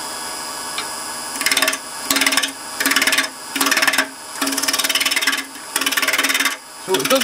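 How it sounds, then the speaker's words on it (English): A roughing gouge with a 30-degree bevel cuts wood spinning on a lathe, shaping a dibber, in six bursts of loud, raspy shaving separated by short pauses, with brief speech near the start. "I'm going to be using a roughing gouge, that one there, with it's a 30-degree bevel, very aggressive but very effective"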